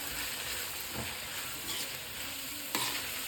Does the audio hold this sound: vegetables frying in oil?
yes